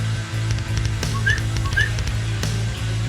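A person whistles two short rising notes, a pause between them, over a low steady background hum.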